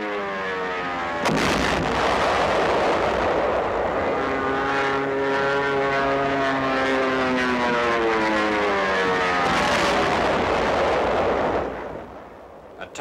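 A 2nd Armored Division tank opens fire in WWII newsreel footage during the 9th Army's drive to the Rhine: a sharp blast followed by a sustained, heavy, roaring engine drone with wavering tones, loud and unbroken before tapering off.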